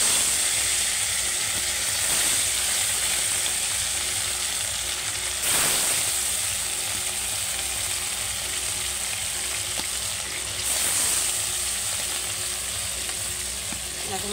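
Pieces of bhola fish fry in hot oil in a pan for a home curry with potato and eggplant, a steady loud sizzle throughout with a few brief bursts of crackle and clatter.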